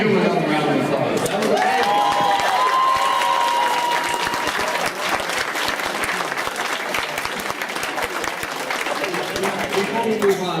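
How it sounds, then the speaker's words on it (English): A Black History Month celebration crowd gives a long, loud round of applause that sustains for about ten seconds. Scattered cheers and crowd chatter mix into the clapping. "We gotta give him another round of applause."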